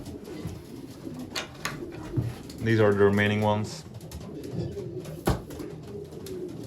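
Breeding pigeons in a loft give a clear, loud throaty coo that rises and falls in pitch, with softer bird sounds around it and someone talking nearby.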